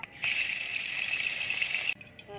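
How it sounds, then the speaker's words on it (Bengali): A loud, steady hiss of hot oil erupts as fish go into the pan, holding for nearly two seconds, then cutting off abruptly. "এবার মাছগুলো ভেজে নেব।"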